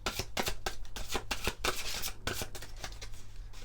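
Playing cards riffle and slide in quick, papery bursts as a card is pulled from a shuffled tarot-style deck, close and fairly loud, with no talking over it.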